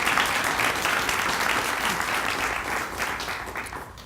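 Audience applause for a university provost at a film studio grand opening, a dense burst of clapping that fills the room and slowly tapers off.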